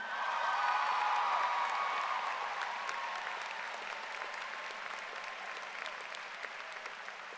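A large crowd at the Thomas Dale High School class of 2025 graduation applauds the valedictorian. The clapping is loud and dense at first, then gradually thins and softens.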